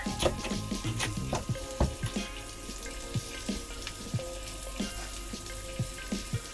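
Food cooking in a pan on a gas camping stove inside an ambulance camper, a gentle sizzle beneath repeated scraping taps of a fork or utensil, close and moderately quiet with no talking.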